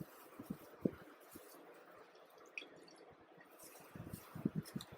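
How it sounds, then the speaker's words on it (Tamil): Soaked bread is squeezed by hand to press the water out, giving a few faint, wet squishes and small drips in a quiet room, with louder bursts near the start and end. "இப்போது திரும்பியும் இதை புளிஞ்சிடணும் தண்ணி இல்லாமல்."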